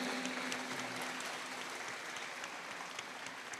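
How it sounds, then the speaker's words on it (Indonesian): An audience at an international seminar applauds in a quiet, distant patter of many hands clapping that slowly fades. "Kita beri tepuk tangan yang meriah lagi Bapak Ibu."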